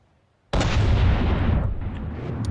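A big tank gun fires a HESH shell in the video game From the Depths: one sudden loud blast after a short near-silence, followed by a long, heavy rumbling decay, with no voices.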